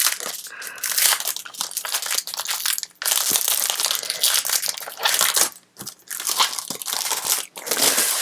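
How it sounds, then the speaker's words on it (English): A pack of glitter paper is handled close up, giving loud crinkling and crackling rustles in bursts with brief pauses between them. "one of my favorite things is this pack of glitter paper"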